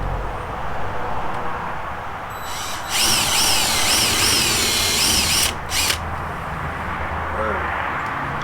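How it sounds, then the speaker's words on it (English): A power drill drives a 1.5-inch exterior construction screw into the frame of a pre-hung man door, a loud close whine rising for a few seconds, stopping, then a brief second burst over faint background noise. "I'm going to go ahead and get my first screw in."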